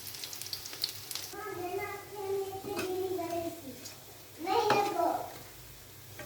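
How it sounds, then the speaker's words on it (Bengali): Spinach pakoras fry in hot oil with a constant crackling sizzle, while a voice talks over much of it. "এভাবে একটু লাল লাল করে ভেজে নেবেন"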